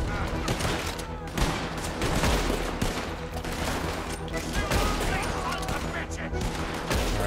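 Sustained gunfire rattles almost nonstop in a Red Dead Redemption 2 shootout, dense overlapping shots and bursts filling the whole stretch, with a voice talking over parts of it.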